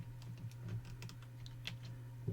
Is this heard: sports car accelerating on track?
no